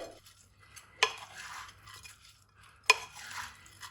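A spoon scrapes and stirs pulao ingredients in a pot, with two sharp metallic clanks against the rim and soft mixing sounds between them, close and fairly quiet.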